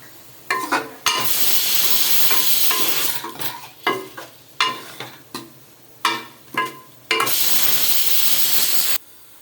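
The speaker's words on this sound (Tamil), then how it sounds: "ஈரல் போட்டு நல்லா வதக்கணும் ஒரு 2 மினிட்ஸ்" Mutton curry masala with liver is sautéed in a pan: loud sizzling bursts, with a steady stretch of frying, a run of short stirring scrapes, and then more continuous sizzle. No voices are heard.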